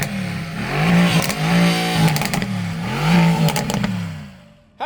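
Bi-turbo V8 of an older Mercedes-AMG GT S revving repeatedly, three or four loud close blips that rise and fall in a steady rhythm, with no talk.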